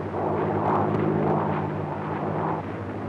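A propeller airplane engine starts up and runs for takeoff, a loud, steady droning roar with a throbbing pulse that holds close and constant throughout.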